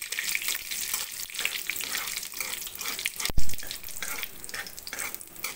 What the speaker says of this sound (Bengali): ফোড়নটাকে একটু ভেজে নেব তেলের মধ্যে।